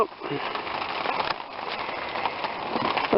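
Rain falls steadily outdoors on a vegetable garden plot, a dense, close patter of drops hitting surfaces that holds throughout with no clear speech.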